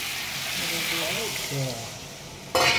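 Food being stirred and sautéed in a pan on a home kitchen stove, a steady frying sizzle with someone talking over it, ending in a sharp louder burst of sizzling or scraping.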